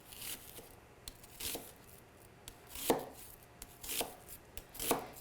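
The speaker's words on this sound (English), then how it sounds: "cooking with onions and chopping onions" A knife chops through an onion on a cutting board in a medium dice, with about nine crisp, close slicing strokes at an uneven pace and quiet pauses between them.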